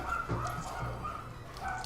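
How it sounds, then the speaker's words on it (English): Several dogs bark in short, scattered bursts at a moderate distance, set against a steady background hum and with no speech over them. "I don't know if I mean bad wanting the dogs I hear barking right now to fight."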